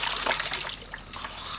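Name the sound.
water running from tap, Shurflo Trail King 7 pump system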